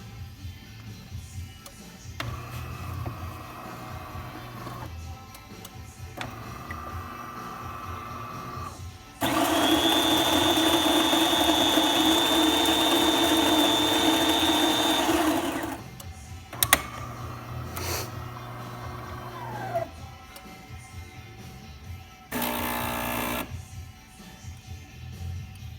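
A serviced DeLonghi Infuser espresso machine pulls a test shot: quiet pump hums give way to a loud, steady six-second whine, then softer running and a short final burst.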